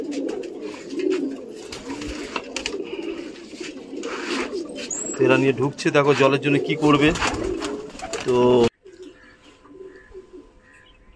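Young pigeons cooing on a rooftop just after landing from a long flight, soft repeated coos close by under ongoing talk, ending abruptly into quieter rooftop ambience.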